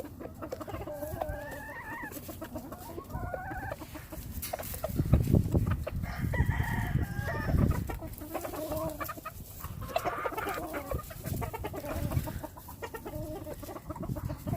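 A game fowl rooster clucks and calls to his hens in a close, busy farmyard chorus of repeated clucks and short vocalizations, rising and falling throughout without speech.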